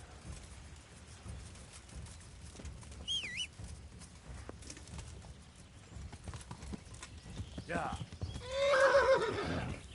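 A horse in Kingdom Come: Deliverance gives a loud whinny near the end, after soft hoof clops and a quiet outdoor ambience with faint bird calls.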